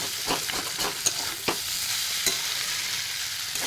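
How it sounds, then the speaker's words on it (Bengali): Shrimp frying in a pan with cauliflower stems are stirred, giving a steady close sizzle broken by soft scraping knocks of the spoon against the pan, with no voices. "এই যে চিংড়ি মাছ দিয়ে এবার নাড়ানাড়ি করে নিচ্ছি।"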